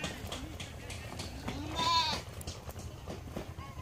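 Baby goats at feeding time bleat in short, close calls, one louder cry standing out midway, over a low background rumble with faint voices.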